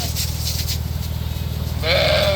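A sheep bleats loudly and close by near the end, after a stretch of low rumbling background noise from a pen full of sheep at a livestock sale.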